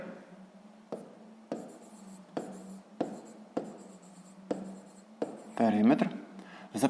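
A pen writes by hand on paper during a sixth-grade maths lesson, steady close strokes with regular taps as each word or figure starts, then a brief rubbing flurry near the end.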